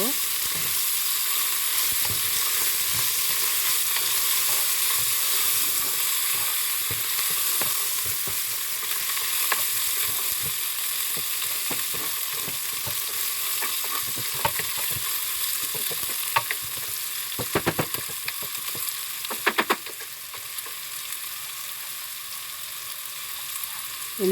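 Sliced onions sauté in a pan for tomato rice, giving a constant, fairly loud hiss of frying. Scattered scrapes and clicks of stirring come through, growing sharper toward the end, with no talk.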